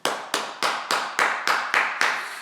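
Eight sharp, evenly spaced claps ring out close by in a steady rhythm, each with a short reverberant tail.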